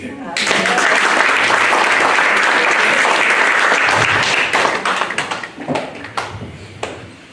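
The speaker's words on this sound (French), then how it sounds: "Applaudissez l'église." A church congregation breaks into loud, dense applause that holds steady for several seconds, then thins into scattered claps and fades out.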